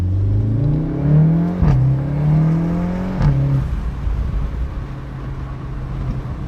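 A VW Golf 7.5 R with a 228 kW turbo engine and DSG gearbox accelerates hard, its engine note rising steadily before two quick upshifts snap the pitch down, all heard from inside the cabin with road and wind noise underneath.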